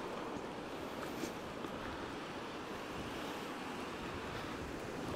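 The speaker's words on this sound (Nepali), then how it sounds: "हे त कस्तो हावा लाग्यो यार" Strong wind buffets the microphone in a continuous, loud roar with low gusting rumble and no other sounds, heard during a long ride on a dusty road.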